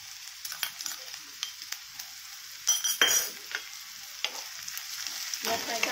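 Finely chopped onion and green chillies sauté in a pan, a soft steady sizzle broken by sharp, irregular scrapes and clinks of a utensil stirring against the metal, with a louder cluster of stirring midway.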